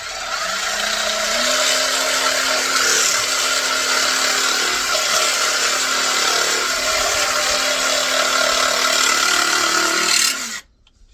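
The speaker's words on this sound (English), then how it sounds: "all you do is put your saw on, just get somewhere close to it" A power saw trims carpet-covered panel material on a van sliding-door pod for a Citroen Relay, with a loud steady whining cut running about ten seconds before stopping abruptly.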